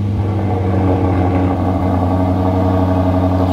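An Aston Martin DBX engine runs close by with a loud, deep, steady rumble, sustained without a break and with no talk over it.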